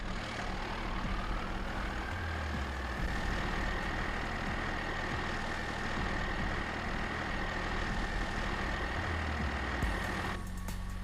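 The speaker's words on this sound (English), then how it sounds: "Not a bad sounding truck whatsoever." A Ford F-350 pickup with a gooseneck hitch in Farming Simulator 22 starts up, its rising whine settling into a steady, close idle that rumbles on alone before a brief change at the end.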